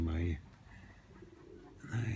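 Pigeons cooing briefly near a rooftop chimney, soft low calls at the start and end with quieter ambient sound between.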